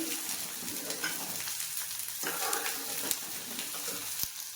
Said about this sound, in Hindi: एक तरफ लगातार मैं कढ़ी चला रही हूँ